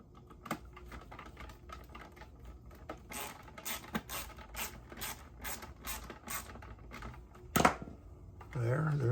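Small screws driven by hand into the plastic hull bottom of a model Orca boat from Jaws, a close series of soft clicking, ratcheting turns with a couple of sharper knocks, quiet and near.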